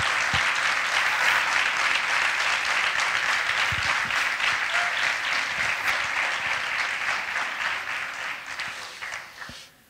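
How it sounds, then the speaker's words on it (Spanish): At a welcome event for a foundation's first week, the audience gives the volunteers a loud, sustained round of applause that holds steady, then fades out near the end. "A estos voluntarios quiero que les deis un fuerte aplauso"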